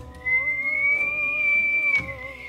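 A single shrill, sustained whistle rises slightly in pitch and holds for about two seconds before cutting off, with little else around it.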